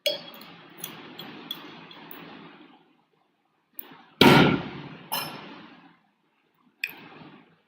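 A glass of drinking water clinks and knocks in a series of sharp, close taps and bumps, with brief rustling between them and short silent gaps.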